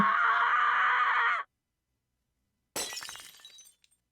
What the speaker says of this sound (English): He had punched the mirror.